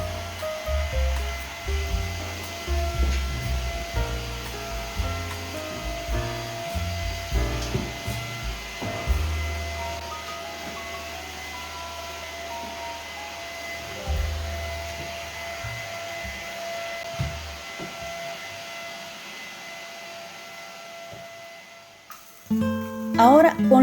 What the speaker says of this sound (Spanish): primero con la aspiradora.